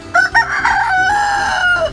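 A rooster crows loudly and close by, a long drawn-out call preceded by a couple of short clucks.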